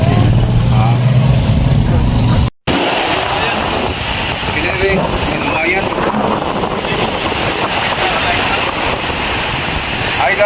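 Big waves wash against the shore at Divisoria, Masbate, a loud continuous broadband roar mixed with heavy wind buffeting the microphone, broken by one brief moment of silence.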